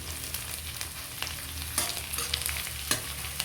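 Pork with ginger frying in a pan, heard as a steady close sizzle with intermittent scraping stirs and clinks of a utensil against the pan, without talk.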